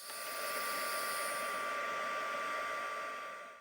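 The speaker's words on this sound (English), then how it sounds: "And I'm going to go heat set both of these." Craft heat tool blowing hot air to set embossing powder on stamped holiday cards, a steady close whooshing roar that runs evenly for a few seconds and then cuts off.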